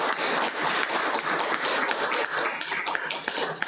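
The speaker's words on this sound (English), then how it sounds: "let's have a round of applause" An audience at a conference presentation applauds, giving a steady, dense wash of clapping that lasts throughout without talk.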